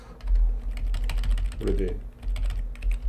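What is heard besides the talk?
typing fast on a computer keyboard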